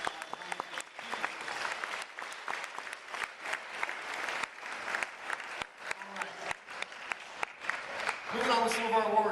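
Audience applause at a track and field banquet, a sustained patter of clapping hands from a roomful of people that holds steady throughout, with a swell at the end.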